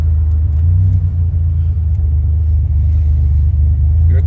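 A Buick Grand National under way on a road test after transmission work, its engine a steady low rumble with continuous road and drivetrain drone throughout, loud and close from inside the car.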